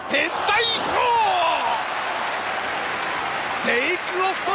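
Steady roar of crowd applause and cheering fills an arena at a Japanese pro wrestling tag match, running continuously under excited commentators talking.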